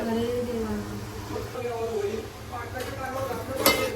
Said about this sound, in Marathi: आता मी टोमॅटो टाकते.